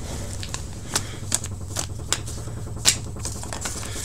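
Paper name slips being shuffled by hand for a trading card pack wars tournament draw, a run of soft, crisp flicks and rustles with a few sharper snaps, close and fairly quiet.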